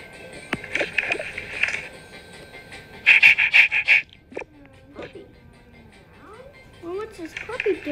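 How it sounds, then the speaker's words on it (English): A puppy pants in quick breathy bursts, close by, coming in short clusters between gaps, with a person talking in between. "what's this puppy doing here?"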